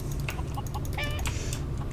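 Chickens in the Minecraft video game give short, repeated clucks over a low background rumble, with a few brief clicks in between.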